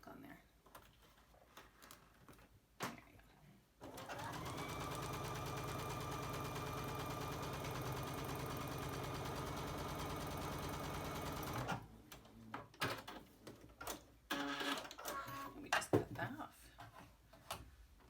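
A home sewing machine stitches Double Irish Chain quilt blocks in one long, steady, loud run of whirring stitches, with quieter handling and fabric rustling before and after.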